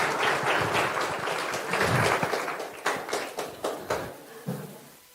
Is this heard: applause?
yes